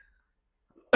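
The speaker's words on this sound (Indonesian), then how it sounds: "Maaf, batuk." A single short, sharp cough bursts out abruptly at the very end after near silence.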